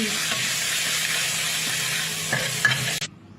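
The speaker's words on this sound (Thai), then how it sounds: "ใส่พริกเข้าไปพริกกระเทียม" Chili and garlic stir-fry in hot oil, a loud, close, continuous sizzle with a few scraping stirs, cutting off abruptly near the end.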